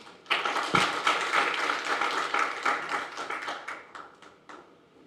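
Seminar audience at a Korean defense-industry digital innovation event claps to welcome a presenter, with a burst of many hands clapping that starts abruptly and stays lively, then gradually thins into scattered claps and dies out.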